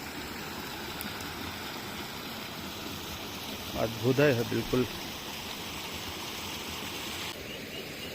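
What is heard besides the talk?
water flowing beside forest path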